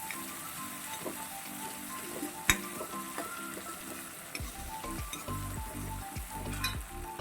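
Tomatoes sauté in a hot pan with a continuous crackling sizzle, broken by repeated scraping and clinking of a spatula as they are stirred.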